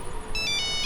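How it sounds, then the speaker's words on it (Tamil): A mobile phone ringtone starts partway through and repeats in short bright electronic pulses, clear and close over a faint low background hum. "ஃபோன் அடிக்குது."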